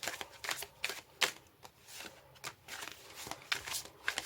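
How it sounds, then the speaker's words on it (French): Tarot cards shuffled and handled by hand during a reading, a run of soft, papery riffles and slaps in irregular bursts, close and fairly quiet, with no talking. "On va tirer 3 cartes."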